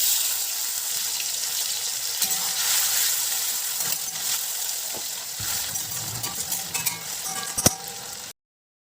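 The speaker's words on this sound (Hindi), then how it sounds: "ज़ीरा चटकने के बाद हम चॉप किए हुए आलू को डाल करके मिक्स कर देंगे।" Chopped potatoes and green chillies tumble into cumin seeds sizzling in hot oil, giving a steady broad hiss with scraping stirs and a sharp clink near the end before the sound cuts off; no one speaks.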